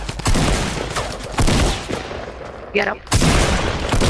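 Rapid bursts of automatic gunfire from a Fortnite Battle Royale match, loud and dense, repeating in several volleys with a short gap near the end, while a player briefly speaks over it.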